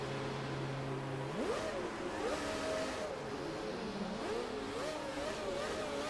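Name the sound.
2007 Ferrari F1 car engine revving, video game F1 2017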